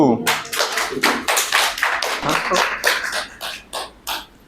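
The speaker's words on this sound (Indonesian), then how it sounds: "Kasih aplaus untuk kelompok 1" A classroom audience claps for the first student group, a quick run of sharp, uneven hand claps that keeps going for a few seconds at close range before tapering off.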